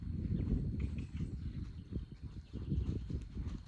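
Hooves of a ridden horse clip-clopping at a walk, a faint, fairly close series of soft irregular thuds with no talking.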